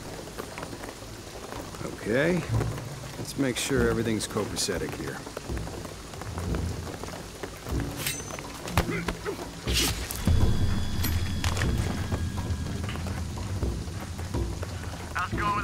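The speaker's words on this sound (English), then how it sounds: "the rain is gonna flood it" Rain falls steadily in a scene from Shadow of the Tomb Raider, a wet patter under game effects and clanks, with someone talking briefly over it.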